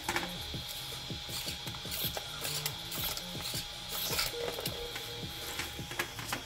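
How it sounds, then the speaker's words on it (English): The steering servo of a WLToys 124019 RC car runs after a crash broke the steering, giving a busy, close mechanical whirring and ratcheting with rapid clicks that continue steadily throughout, with no voices. "Steering is broke, but the servo still works."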